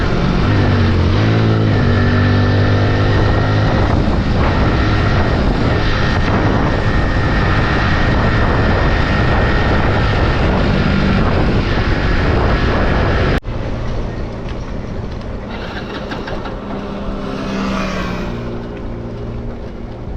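Hero HF Deluxe BS6 motorcycle engine running steadily while riding through the city, loud and close with wind rush, dropping abruptly in level after about thirteen seconds as if the engine cuts out.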